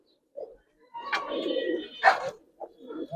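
Giribaz pigeons coo in a few throaty, rolling phrases close by, separated by short silences, with no talking over them.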